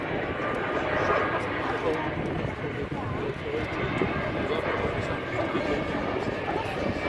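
An Airbus A350-1000 making a slow flyby, its engines producing a steady, continuous jet roar throughout, with a voice talking over it.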